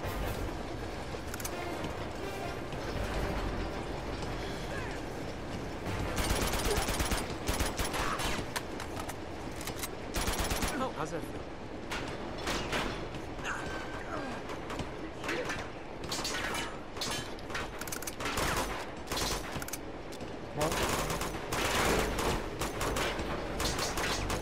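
Video game gunfire during a train fight in Uncharted 2: Among Thieves, dense and continuous, with bursts and rattling shots over a steady rumble of the moving train and a voice speaking at times.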